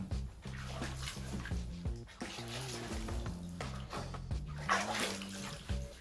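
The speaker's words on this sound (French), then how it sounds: "Donc je commence à mouiller mes cheveux." Water runs steadily into a bathtub from the tap while dreadlocks are wetted, a continuous splashing flow with faint shifting tones over it.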